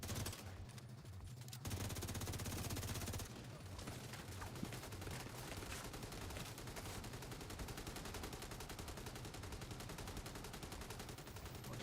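Sustained automatic gunfire and bursts of shooting in the video game Tom Clancy's The Division 2, dense and loud throughout, with a brief lull early on before the firing resumes without pause.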